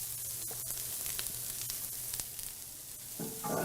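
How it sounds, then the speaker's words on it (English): Peppers and onions sizzle in avocado oil on a hot griddle, a steady broadband hiss with faint scraping clicks and a low hum beneath, fairly loud and close, with no talking. "We're using some avocado oil. Now, we're gonna do some peppers and onions."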